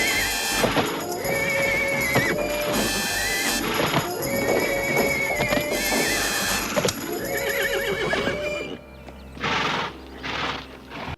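A horse neighs and whinnies repeatedly in loud, shrill bursts while its hooves clip-clop and stamp beneath, the animal reacting intensely; near and alone, with no talk.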